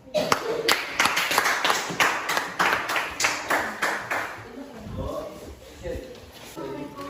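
Classroom of students clapping for a student group returning to their seats, steady rhythmic applause for about four seconds before tapering into murmured voices and rustling.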